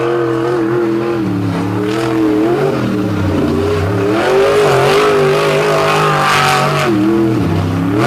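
A monster truck engine roars loudly and close on a beach track at Virginia Beach, Virginia, with steady harmonic revving that rises and falls as the truck pushes on with a damaged right front, no talk heard.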